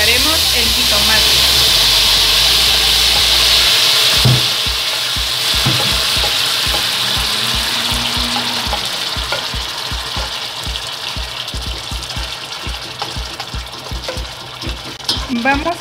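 Tomato sizzles and fries in hot oil with chopped onion in a saucepan, a loud steady hiss that eases a little after a few seconds, with repeated knocks and scrapes of stirring running throughout.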